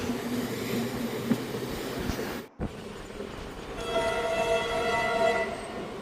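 The Karnataka Sampark Kranti express rumbles past with steady rail noise, a brief drop-out, then a sustained horn blast sounding over the rolling clatter.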